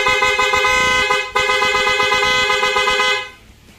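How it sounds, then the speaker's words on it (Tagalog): A car horn, weak from an old battery, blares in one long continuous honk with a brief dip partway through, close and loud, then cuts off near the end. "Ano nangyari sa busina, sir?"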